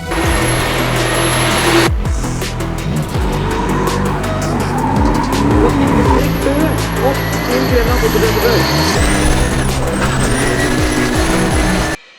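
Drift car at a Drift Night event on the night before 1 May 2025, its engine roaring loud and close while tyres skid and squeal almost continuously, with voices mixed in throughout.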